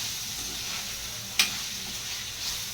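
Gongura mutton curry fries in hot oil with a steady close sizzle and hiss, broken by a single sharp click of a utensil midway.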